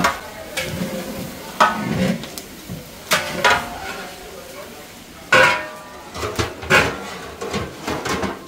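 Beef with roast spices cooks in a large pot at a wedding-morning gathering, with repeated stirring scrapes and sizzling bursts up close while people talk.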